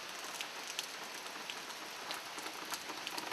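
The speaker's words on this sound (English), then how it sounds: "Sunday morning, and it's still raining very hard." Steady, heavy rain from Hurricane Irene pouring down, a dense continuous hiss with scattered louder drops and splashes standing out throughout.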